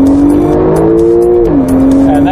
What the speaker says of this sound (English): Did you hear that wheel spin?